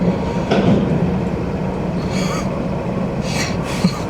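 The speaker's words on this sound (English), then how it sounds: "This might be the longest wait for a train to cross the tracks I have ever waited for." A train rumbles steadily past at close range through a road crossing, a continuous heavy roar with a few brief clattering bursts.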